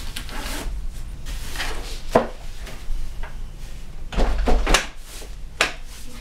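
Clicks and knocks as a Stokke Crusi stroller part snaps into place, several sharp transients spread across a few seconds, close and fairly loud, with no talking.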